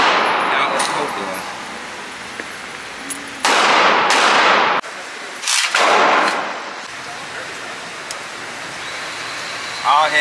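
Several sharp, loud gunshots from a 300 Blackout rifle fitted with a brass catcher at an outdoor range, spaced a second or so apart, with people talking between the shots.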